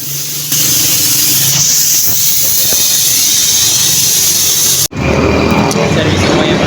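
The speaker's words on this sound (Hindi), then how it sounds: "अब डीज़ल लग रहा है इसके ऊपर" Diesel sprayed in a steady pressurized hiss over a motorbike during a service, loud and continuous throughout, with a brief cut near the end before the spray resumes.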